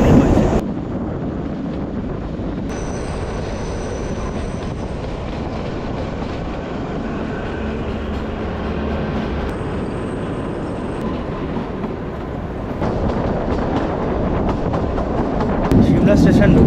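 The Kalka–Shimla toy train, the Shivalik Deluxe Express, runs through the mountains with a loud, steady rumble and rail clatter that swells near the end, and voices are faintly present underneath.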